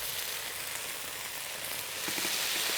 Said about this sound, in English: Once your turnip cake's in, I'd recommend to turn that heat down a little, just so that can sizzle away but not burn